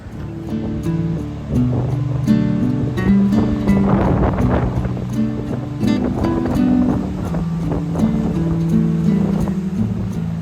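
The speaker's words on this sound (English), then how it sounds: "you can hear the sea below crashing" Sea waves crash below the coastal cliffs of the South West Coast Path near Porthcurno, a rolling, surging wash mixed with gusty wind buffeting the microphone.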